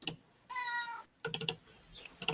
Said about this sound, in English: Bro, cat be meowing.